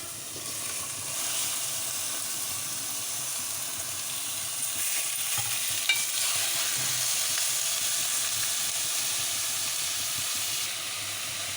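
Chicken pieces frying in a pan for a chicken gravy curry, sizzling in hot oil with turmeric; a steady, loud, broad hiss continues without a break for the whole stretch, close by, with no talking.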